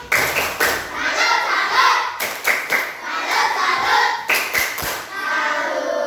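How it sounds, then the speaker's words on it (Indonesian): A class claps together in a rhythmic salute pattern of quick bursts and pauses, with a little crowd noise mixed in. "Tepuk salut dulu buat kelompok 4. Tepuk salut."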